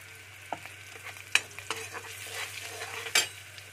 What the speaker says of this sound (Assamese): পিঁয়াজ ৰঙা পৰিব লৈছে